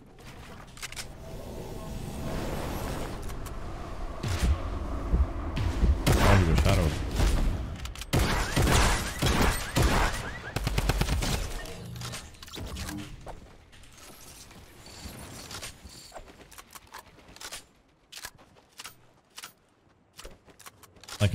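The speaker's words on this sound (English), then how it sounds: "Like, a shotgun with this much ammo and this fast of a fire, it should never be a thing." A shotgun fires rapidly in the video game Fortnite, a dense run of loud, sharp blasts and mechanical clacks that thins out toward the end, with a voice talking over parts of it.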